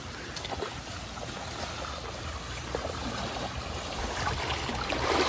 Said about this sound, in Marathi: त्या ओढ्यातून आपल्याला आता आतून जायचं पाण्यातून जायचं